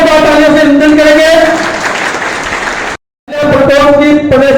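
Audience applause at a state-level fisheries cooperative society conference, a dense steady patter mixed with a sustained tonal voice or sound on top, cut by a short silence before resuming.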